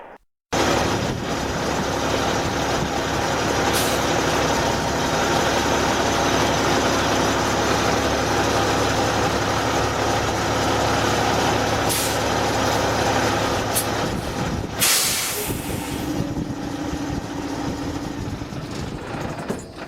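A semi truck reversing to hitch a trailer, its diesel engine idling in a steady loud rumble, with a sharp burst of air brake release hissing near the end.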